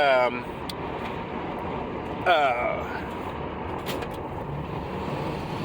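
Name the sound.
turbocharged vehicle engine building boost while driving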